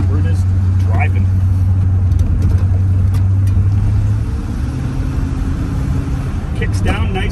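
A 1981 GMC truck, long parked, drives on a road at night at roughly 40 km/h, its engine a steady low drone with road rumble throughout, up close inside the cab while a person talks.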